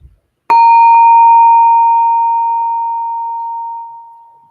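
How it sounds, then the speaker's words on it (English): A single meditation bell strikes once, clear and loud, then rings on with a pure, sustained tone that slowly fades over several seconds in an otherwise silent room. "I'll just guide us along in the process with the bell"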